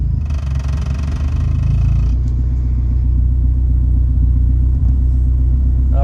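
A 1997 Eclipse GSX engine idling roughly in park, with a loud, close low rumble that starts with a higher-pitched whine and then settles into a steady, slightly uneven drone.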